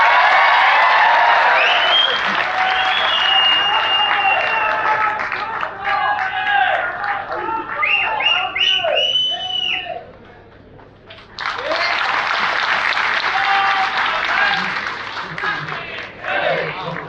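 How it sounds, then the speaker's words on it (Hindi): A rally crowd applauds and cheers loudly in a long, continuous burst, briefly dipping before surging again, with voices mixed into the noise. "आप तालियां बजाकर स्वागत"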